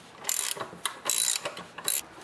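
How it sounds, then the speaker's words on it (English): A ratchet on an extension loosens the oil drain plug of a Toro lawnmower, giving several close, sharp bursts of rapid clicking with short pauses between strokes. "move the guard enough so I can get my extension in the oil plug, push it in as far as I can"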